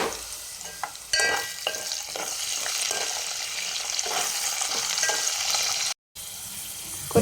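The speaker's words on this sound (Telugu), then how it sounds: "ఆయిల్ వేడెక్కిన తర్వాతకి కొద్దిగా ఆవాలు, జీలకర్ర, కరివేపాకు, ఉల్లిగడ్డ, ఒకటి పచ్చిమిర్చి వేసుకోండి" Loud sizzling and stirring as mustard seeds, cumin, curry leaves, onion and green chilli fry in hot oil, a constant crackle with spoon scrapes, one abrupt cut near the end.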